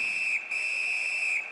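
A referee's whistle in the NHL 19 hockey video game sounds as one long, shrill, sustained blast with a slight break midway, loud and alone.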